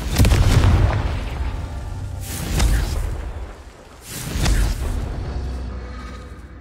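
Fiery Confringo spell blasts in the Hogwarts Legacy game, three loud booming explosions a couple of seconds apart, each a sharp burst trailing into a rumbling decay, no talk.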